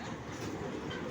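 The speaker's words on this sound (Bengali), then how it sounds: "ট্রেন চলছে," A small amusement park ride train runs in an eco park, a brief, faint steady rumble and rattle of wheels with a dense wash of background noise.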